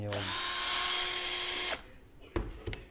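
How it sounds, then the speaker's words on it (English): Old electric drill fitted with a wire brush, cleaning inner faucet fittings during a Kohler Koi faucet install: a loud steady whine running close for under two seconds, then stopping, followed by a few brief knocks and clatters. "old drill with a wire brush on it to clean the inner fittings"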